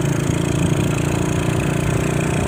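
A Honda Supra motorcycle engine runs steadily at low revs, a close, even putter with constant loudness throughout and no talking.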